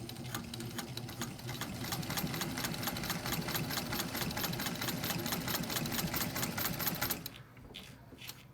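A Singer 201 sewing machine stitches through denim up close, with a fast, even mechanical clatter of needle strokes for about seven seconds before stopping. A quieter pause with faint handling noises follows.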